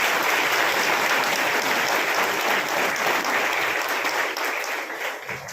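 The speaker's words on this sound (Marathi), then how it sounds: "टाळ्या आवडलं म्हणून वाजल्या की थांबू म्हणून वाजल्या?" Loud, dense applause from an audience at an award event, many hands clapping steadily for several seconds before tapering off slightly at the end.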